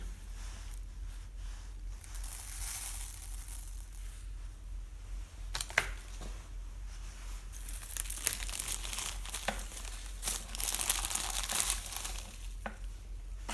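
Gritty granules crunch and rattle in irregular bursts, like small stones shifting inside a cut-open 3M 6001 respirator cartridge filter being squeezed up close.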